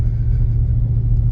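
A pickup truck in four-wheel drive rolls along a snowy dirt road uphill, its engine giving a steady, loud low rumble heard from inside the cab.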